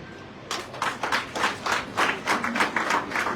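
An audience at a port authority leadership ceremony breaks into applause after a brief pause, the claps rising in clustered, rhythmic bursts that stay close and lively throughout.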